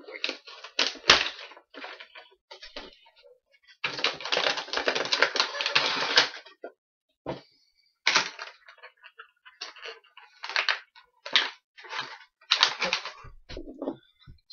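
Loot Crate toy packaging is worked open close up in irregular bursts of scraping, crackling plastic and cardboard, with a long rustling stretch in the middle and sharp snaps between quieter pauses.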